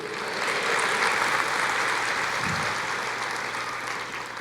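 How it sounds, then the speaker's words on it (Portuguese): A church congregation applauds during a sermon, a sustained and moderately loud patter of clapping that swells slightly and then eases off. "Aplauda o Senhor"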